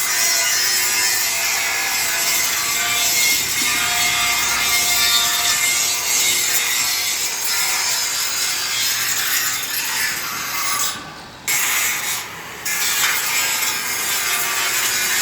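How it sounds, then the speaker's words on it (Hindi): An angle grinder works over a finished weld joint in a metal body-making workshop, a steady, loud abrasive grinding and rubbing that runs continuously and briefly dips near the end before resuming. "ग्राइंडर लग रहा है इस पर।"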